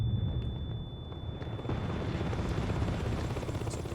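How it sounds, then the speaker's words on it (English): A helicopter in the video game Saints Row 2 produces a constant low rotor rumble and thrum, with dull booming impacts mixed in, and no voices over it. "I know I gotta destroy the helicopter."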